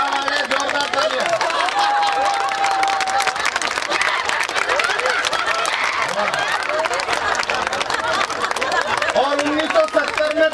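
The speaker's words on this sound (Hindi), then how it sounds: "जोरदार तालियां।" A large audience claps hard and continuously at an honoured guest's arrival, a loud, steady wash of applause with some cheering and crowd voices under it.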